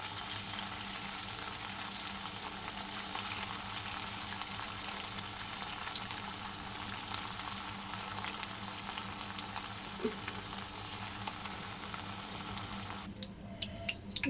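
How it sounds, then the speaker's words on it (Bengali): Pakoras frying in hot oil in a wok make a steady, dense sizzle that runs nearly unbroken and fairly close, with a faint bubbling underneath, then cuts off abruptly near the end. "সবগুলো পকোড়া আমার ভাজা হয়ে গেছে"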